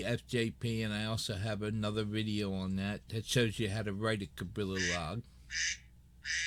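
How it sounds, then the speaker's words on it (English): A duck-quack phone ringtone sounds at the end, a few loud nasal quacks in quick succession after someone talks. "Sorry about the duck, that's my phone."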